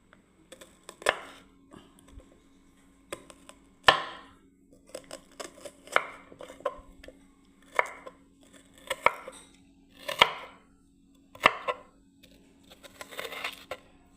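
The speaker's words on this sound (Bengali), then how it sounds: "পেঁয়াজ কাটছি বন্ধুরা, দেখুন ঝিরিঝিরি করে।" A knife slices onions finely on a board, giving crisp, close chopping cuts about once a second, some doubled, under a faint steady hum.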